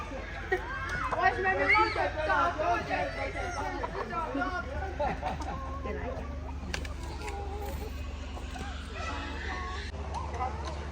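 Chickens and pigeons in a small farm shed near Montreal, Canada, cluck and coo in a busy, continuous babble of bird calls, with people talking over them.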